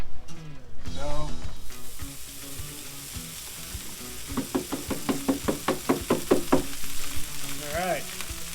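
Rice frying on a Blackstone griddle, loud close sizzling broken by rapid rhythmic spatula knocks and scrapes against the flat-top, with brief talk at the start.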